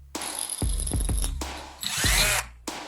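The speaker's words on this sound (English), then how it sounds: "Drill a hole through the center of the wooden handle and office clip." A power drill whirs in short bursts, boring through a wooden handle with a grinding rasp, close up, stopping and restarting several times.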